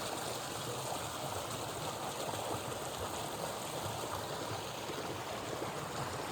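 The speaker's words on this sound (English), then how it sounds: "And the river, the idyllic Vermont scene." A river in Vermont flows beneath a bridge with a steady, rushing wash of water, even and continuous at moderate distance, with no voices over it.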